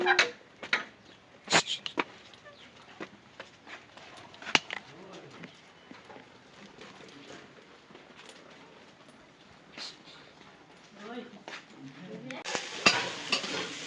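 Meat being stirred and fried in a pan in a village home kitchen: intermittent scrapes and clinks of a utensil against the pan over a soft, steady sizzle, with a few louder knocks and faint voices nearby.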